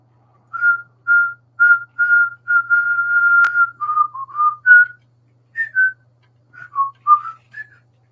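A single person whistles a bright, wavering tune alone in a quiet room, a series of short phrases and sustained notes with brief pauses, loud and close.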